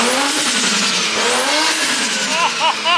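A Toyota JZX engine being tuned revs up and down off idle, rising and falling whine with sharp blips near the end, loud and close, with a faint voice underneath.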